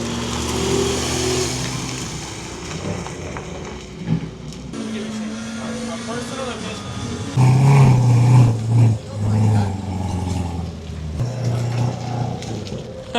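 A supercharged race car with a welded differential runs on a track, its engine revving and dropping at a moderate distance while people talk nearby over it.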